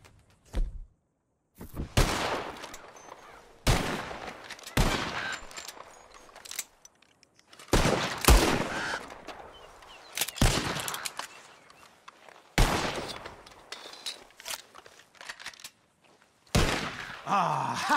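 Repeated gunfire in Red Dead Redemption 2 during a bird-shooting contest, with sharp shots arriving in bursts separated by short pauses, near and loud, and a faint voice briefly heard among them.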